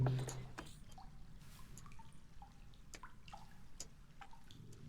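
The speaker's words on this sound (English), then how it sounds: "How good is that like dripping sound?" Water drips in the zoo-building game Planet Zoo, sparse single plinks falling at an irregular slow pace, fairly quiet over a soft ambient background.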